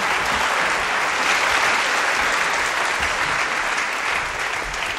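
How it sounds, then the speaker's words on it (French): A French television studio audience gives continuous, even applause, a dense wash of clapping that stays loud and steady throughout with no talk over it. "Quelques applaudissements pour Sophie"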